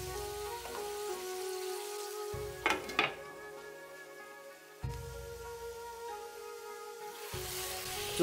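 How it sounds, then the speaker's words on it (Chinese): A covered pan of Chinese bean sauce with scallion, ginger, garlic, fried bean paste and cooking wine simmers with a steady, close sizzle, broken by a couple of sharp lid clatters partway through. "然后盖盖子焖煮"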